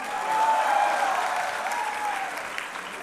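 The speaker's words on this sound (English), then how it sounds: "We need more clap, more encouragement." Audience applause at a 2019 annual convocation ceremony, a sustained wash of clapping from a large crowd in a hall, swelling early and holding steady for the whole stretch, with a faint tone and murmur beneath.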